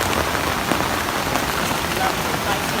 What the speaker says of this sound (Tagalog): Rainy day ba to?